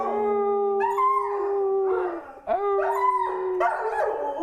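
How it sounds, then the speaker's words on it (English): A puppy howls in long, wavering, song-like notes, close and loud, rising and falling across several drawn-out phrases with brief breaths between them, and no talking over it. "See, Under is teaching puppy Cash how to sing."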